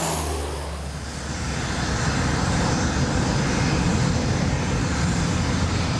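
An aging, poorly maintained airliner takes off at an African airport. Its engines give a loud, steady roar that swells and holds throughout, with no voices.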